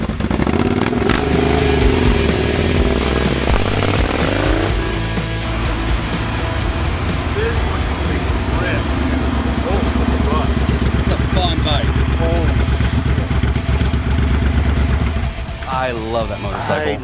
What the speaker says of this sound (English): I love that motorcycle.